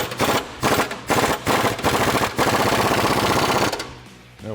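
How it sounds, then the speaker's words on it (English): Body mount bolts on a 2015-2023 Ford Mustang are tightened with a 21 mm socket, making loud, rapid hammering rattles in several close bursts with brief gaps, then a final long run that fades out. "we'll tighten down our body mount bolts with our 21 millimeter socket"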